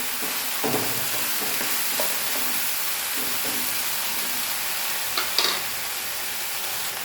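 Onions fry with salt in a frying pan, giving a steady, close sizzling hiss with a few soft scraping stirs and one brighter clink near the end.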